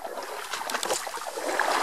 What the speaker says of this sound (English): You hear my splash in the cypress dome.